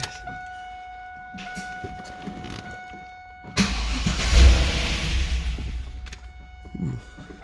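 A 2002 Pontiac Trans Am V8 fitted with a stage 2 cam idles roughly after a restart, a loud uneven rumble rising abruptly midway and continuing with a lumpy idle and ticking lifters, no voices.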